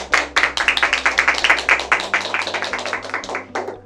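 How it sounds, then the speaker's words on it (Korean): A small audience welcomes a lecturer with applause at a school health training session. Individual claps stay distinct in a quick, uneven rhythm, trailing off toward the end over a low electrical hum. "박수로 환영 부탁드립니다"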